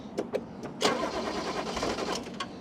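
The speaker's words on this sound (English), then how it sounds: "Alright, I'm going to give it a crank." A classic Toyota Cressida MX32 sitting at a wreckers' yard is cranked to start, giving a few short starter bursts and then a longer churning crank with no clear catch, heard close up.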